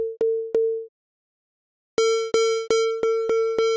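A plain sine-wave synth tone beeps in short, evenly spaced pulses, two clean and pure at first with one held longer, then after a pause a quicker run of six buzzier, harsher beeps.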